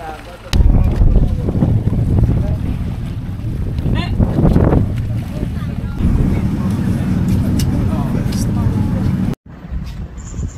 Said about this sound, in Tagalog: nakasakay na tayo ng bangka at diretso na tayo sa Lacaon